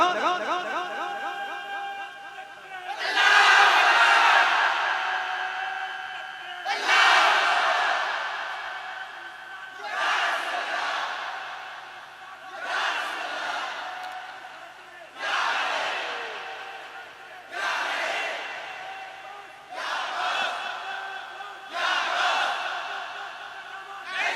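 A large crowd at a Muharram gathering chants slogans in loud, rhythmic bursts, about eight roaring call-and-response shouts separated by brief pauses, filling a reverberant hall.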